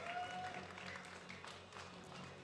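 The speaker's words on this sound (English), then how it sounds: "Round of applause" An audience applauds on stage at a Bandai card games festival in Kuala Lumpur, a fairly faint, steady patter of clapping with a bit of crowd noise.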